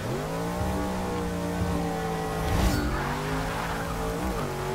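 A car in the racing game Forza 6 revs hard with its tires spinning and squealing, a loud, sustained engine drone rising and falling in pitch with a brief skid in the middle.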